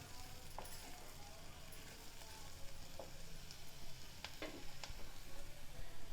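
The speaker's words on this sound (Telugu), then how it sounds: "ఒక 5 నిమిషాలు ఈ నూనెలో బీరకాయ మగ్గనివ్వాలి" Chopped ridge gourd sizzles steadily in hot oil for a Telangana-style ridge gourd and black-eyed pea curry, with a few brief scrapes and clinks of stirring over a constant low frying crackle.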